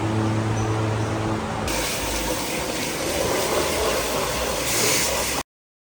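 Water spraying and gushing steadily as pallets and cases for spring onions are washed, a loud continuous rush with a shift in tone partway through, cutting off abruptly near the end.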